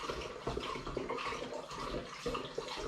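Liquid pours steadily into a vessel for cider making, a continuous splashing gurgle heard close up with no voices.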